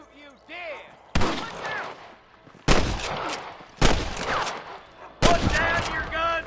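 Bursts of gunfire in the Red Dead Redemption video game on Xbox Series X, four loud sharp volleys spaced about a second apart, with brief quieter gaps and faint game sounds between them.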